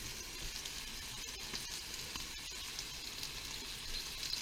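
Food frying in a covered pan, a soft, steady sizzle with faint crackles and pops, quiet and unbroken throughout with no voices.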